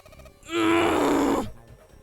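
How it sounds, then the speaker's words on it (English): Video game character in 9 Hours, 9 Persons, 9 Doors grunting with strain behind a door, one sustained groaning grunt about a second long, fairly loud and alone. "Then the grunting ceased"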